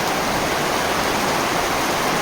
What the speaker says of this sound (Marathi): आता किती पाऊस पडतो आहे तुम्हाला आवाजसुद्धा येत असेल बघा भरपूर वारा पाणी सुटलेलं आहे